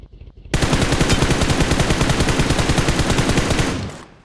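Sustained automatic gunfire in PUBG Mobile rattles out in a rapid, loud, unbroken burst of shots for about three seconds before tapering off.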